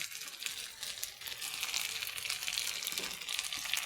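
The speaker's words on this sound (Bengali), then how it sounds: "তো আর আলু ভেজে নিছি, কারণ আলুটা মাখা মাখা হয়ে যাবে তরকারিটা ভেজে না দিলে।" Potatoes fry in a pan with onion, garlic and green chili, giving a quiet, steady crackling sizzle with occasional stirring rustles throughout.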